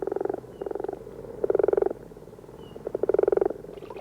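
Male frogs croak at a pond in daytime, four rapid pulsing trills in a row, loud and near, with faint background chorus.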